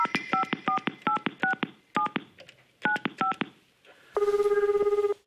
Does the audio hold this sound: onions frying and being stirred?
no